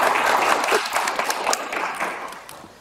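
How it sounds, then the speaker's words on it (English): Audience at an architectural education conference in Prague claps after a lecture, a loud, even round of applause that gradually fades over a few seconds. "Applause, of course."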